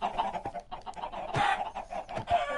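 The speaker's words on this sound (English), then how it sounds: "Let the chickens go." Chickens clucking in the video game Minecraft, a busy run of short, close clucks and squawks that repeat through the clip, with no talk over them.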